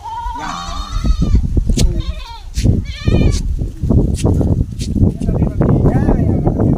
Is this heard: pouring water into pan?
no